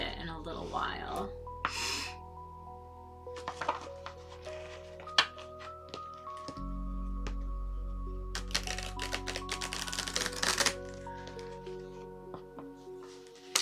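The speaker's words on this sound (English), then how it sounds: "Let me just give this deck a shuffle." A tarot deck being shuffled by hand, with bursts of card riffling and shuffling in a quiet room among breaths and small handling noises, loudest toward the end.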